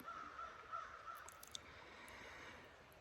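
Crows caw faintly in the distance on an early morning on the Appalachian Trail, a few scattered calls over soft, steady outdoor ambience.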